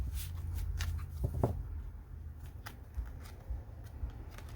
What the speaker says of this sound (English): Shuffling on camera.